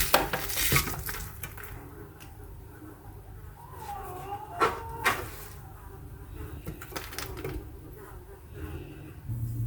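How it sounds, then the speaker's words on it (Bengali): Chopped onion tipped into a pot for mutton rezala, with light clinks of metal utensils against the pot and faint scraping and sizzling at low volume, scattered sharp clatters among quiet stretches. "এখন দিয়ে দিব পেঁয়াজ কুচি"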